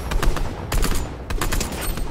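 Shotgun fire in the Fortnite video game, a few loud, close blasts in quick succession with bursts of rapid gunfire layered between them.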